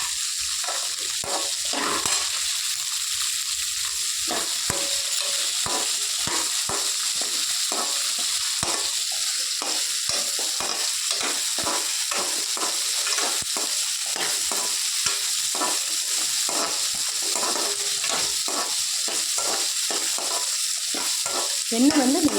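Onions for onion chutney fry in oil over a raised flame, hissing in a continuous close sizzle while a spoon stirs and scrapes them in quick, repeated strokes.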